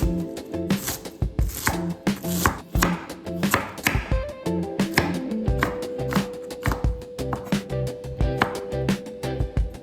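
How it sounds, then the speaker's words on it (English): Rapid knife chopping of cabbage and carrot on a cutting board, a steady run of crisp, close, loud strokes with no talking. "Chop the cabbage and carrot."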